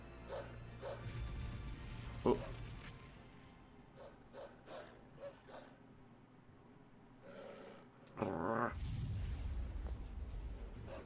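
A dog barks and yips in the Tales of Zestiria video game, several short sharp barks in a loose series over game music, with a brief exclamation from a player and a louder rough burst near the end.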